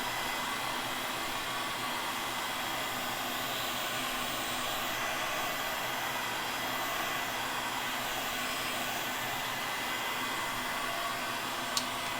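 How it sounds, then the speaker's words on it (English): A heat gun blows hot air continuously for about twelve seconds, a steady close roaring whoosh with a constant motor whine and no change in pitch. No one speaks over it. "Let's see if I can't hit this with a heat gun and get rid of some of this stuff."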